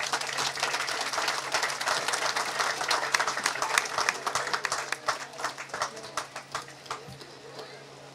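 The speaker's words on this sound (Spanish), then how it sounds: "Un fuerte aplauso para Mundita." A small gathering applauds Mundita at a testimonial event in Tres Calles, the clapping steady and close, then thinning into scattered claps toward the end, with a low steady hum beneath.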